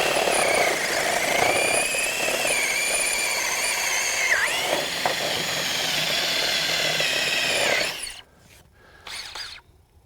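A RIDGID 18-volt brushless drill running on high speed in forward, driving a 5/8 inch bit into material, a steady loud whine for about eight seconds that then cuts off, leaving a few short quieter bursts.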